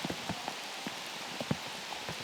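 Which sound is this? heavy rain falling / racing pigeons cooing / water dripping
heavy rain falling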